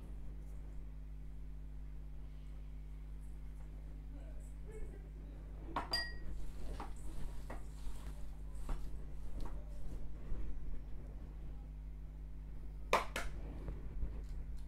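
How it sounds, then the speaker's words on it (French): Beef meatball mixture being worked by hand with breadcrumbs in a bowl, giving soft, quiet squelching and scattered light clinks against the bowl under a steady low hum. "J'incorpore la chapelure"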